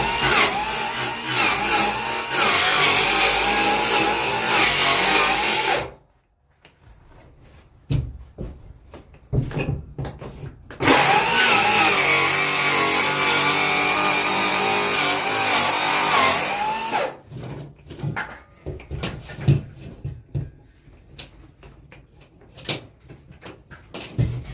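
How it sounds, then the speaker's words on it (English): A Sawzall reciprocating saw cuts through wood during demolition of a water-damaged RV bedroom, two loud, harsh bursts of several seconds each separated by quieter knocking and handling noises. "So I think I'm gonna have to get a Sawzall and do it flush"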